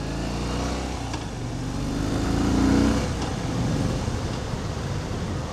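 A 2015 Harley-Davidson Fat Bob motorcycle engine rumbles while riding, swelling briefly as the throttle opens, blended with heavy wind and road noise, with no talking.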